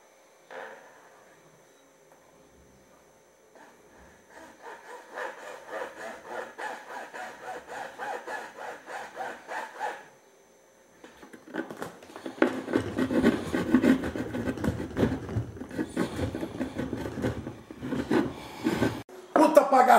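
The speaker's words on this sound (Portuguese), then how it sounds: "E agora o lance é serrar. Pelo menos tentar serrar reto" Hand saw cutting through PVC pipe with steady back-and-forth strokes, quieter at first and then louder and rougher near the end, with someone talking now and then.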